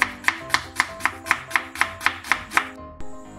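Knife roughly chopping onion on a board, about eleven crisp evenly spaced chops close up, then a pause and a softer final knock.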